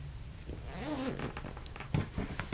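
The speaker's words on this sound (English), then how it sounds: "I'm gonna go here and open my zippers" Zippers on a travel clutch bag being pulled open, a couple of close, scratchy zipping strokes with light handling rustle and no talking.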